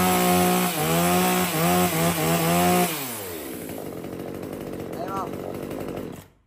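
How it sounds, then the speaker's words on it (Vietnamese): A small mini gasoline chainsaw of the kind used for climbing and cutting trees revs loudly in several rising and falling bursts, then drops to a steady, rough idle before cutting off. "Em nổ cho nghe này, con này thì nó có nổ nghe vòng cua máy rất là khỏe luôn"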